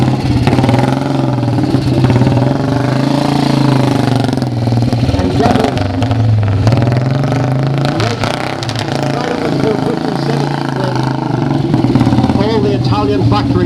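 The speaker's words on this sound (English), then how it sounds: "Lovely to hear Don Delino running." Italian racing motorcycle engine running at a motorcycle museum's Italian day, a loud steady mid-pitched drone with revving swells throughout, heard under continuous talk.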